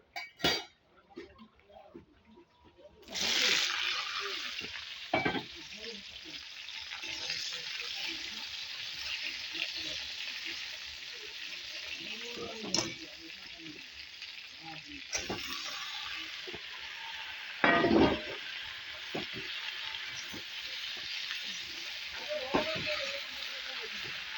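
Dried red chillies and panch phoron spices sizzle steadily in hot oil in a home kitchen, starting with a sharp burst as they hit the pan, with occasional utensil clinks over the continuous frying hiss.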